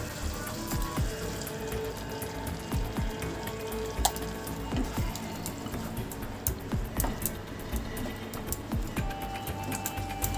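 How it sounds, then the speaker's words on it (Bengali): Spinach paste goes into spices frying in a pan for an egg and spinach dish, giving a steady close sizzle and bubbling with scattered clinks and scrapes of a utensil against the pan. "মশলা কষে গেছে, দিয়ে দেবো পালংয়ের পেস্টটা"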